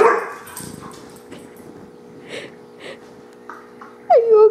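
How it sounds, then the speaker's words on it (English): A border collie barks and yips in short, scattered bursts, ending with a louder whining yelp close by. "My dog is a crazy border collie."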